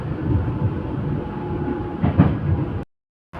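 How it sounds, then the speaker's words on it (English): A train rolls into a station platform in Hillerød with a continuous low rumble and some rhythmic clatter. A brief louder burst comes near the end, then the sound cuts to silence for a moment. "waiting for the train. Not sure if this is mine. It just got here."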